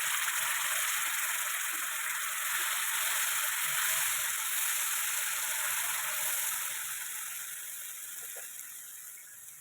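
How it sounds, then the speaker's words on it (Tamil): Curd-mixed masala hitting hot oil in an egg curry, a loud, dense, continuous sizzle that holds steady and eases slightly toward the end, close with no voices. "இப்போது தயிரில் மிக்ஸ் பண்ணி வச்ச மசாலாவை சேர்த்துப்போம்."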